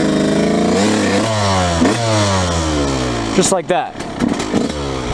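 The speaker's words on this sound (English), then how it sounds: "She's in first gear. Nice and easy, just give it some gas." Dirt bike engine revving in first gear, a buzzy, fairly close motor rising and falling in a few throttle blips, with a person briefly speaking over it.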